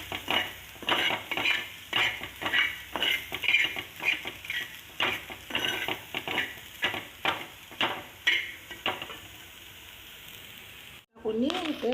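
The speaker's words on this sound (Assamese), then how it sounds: "আৰু তিতকেৰেলাখিনি ভাজা হৈ যাওক।" Bitter gourd frying in a pan, stirred with a utensil in regular scraping strokes over a soft sizzle, close and fairly loud, ending in a short pause and a brief voice.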